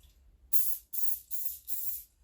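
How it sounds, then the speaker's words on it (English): Four short, loud bursts of aerosol cooking spray hissing in quick succession onto potato slices, close by, with brief gaps between. "spray one side with cooking spray"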